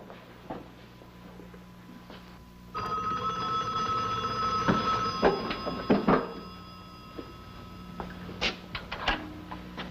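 Old-fashioned telephone bell ringing in a quiet room, a sustained metallic jangle that starts a few seconds in and rattles on with knocks and clunks around it, with no talk.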